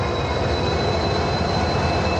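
A train hauled by a WDG4 diesel locomotive gives off a loud, constant rumbling roar with a thin high whine above it, close and unbroken, with no talking.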